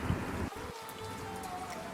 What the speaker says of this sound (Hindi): जहां बारिश की हल्की फुहारें गिर रही थी